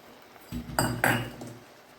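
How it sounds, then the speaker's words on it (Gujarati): Beetroot halwa with added sugar is stirred in a metal pan, a spoon scraping and clinking against the pan in a short burst of a few strokes, close and fairly quiet, with no talking. "અને હવે હલાવતા રહીશું સતત આવી રીતે"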